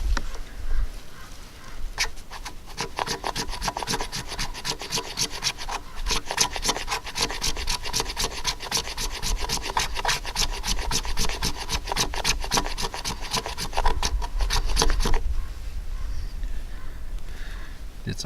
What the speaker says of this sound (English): Did some shavings, now we'll put some scrapings on there.